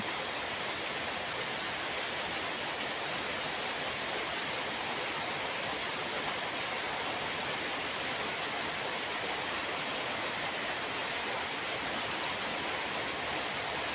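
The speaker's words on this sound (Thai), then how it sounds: "ฟังเสียงฝนกับพี่น้อง" Steady winter rain pours without a break, a dense, even hiss that stays constant and close throughout, with no voices.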